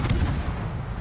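Naval guns fire in World of Warships, a heavy, low boom rolling through one second of continuous rumble, loud and close, with no speech.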